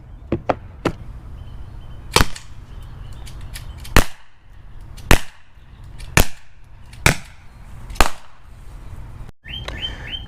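A Byrna Compact Launcher fires at a watermelon target outdoors, producing a string of sharp, loud cracks spaced about a second apart, with some faint bird chirps between the shots.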